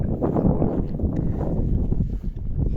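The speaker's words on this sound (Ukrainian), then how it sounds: "у нас трошки вітряно" Low, rumbling gusts buffet the microphone continuously, a blustery wind noise dominating the whole moment without any talking.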